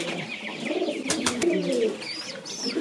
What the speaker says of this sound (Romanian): Puiul deja cere de mâncare, în momentul în care face așa, înseamnă că e foame